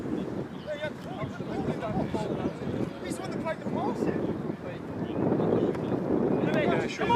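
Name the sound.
strong wind blowing over the microphone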